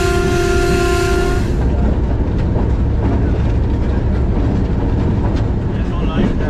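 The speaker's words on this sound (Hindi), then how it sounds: "सामने लोकोमोटिव की लाइट्स नज़र आ रही हैं जो कि लीड कर रहा है 135 अप चनाब एक्सप्रेस अलमारूफ धमाका पैसेंजर" Chenab Express train led by a locomotive approaching Haria railway station, heard from a locomotive cab: a loud continuous rumble and rattle of rail travel, with a tonal horn-like blast in the first second and a half.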